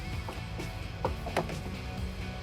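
A hand ratchet clicks in short irregular bursts while loosening the bolt holding a Jeep Wrangler JL tail light, close and fairly quiet against a low background hum.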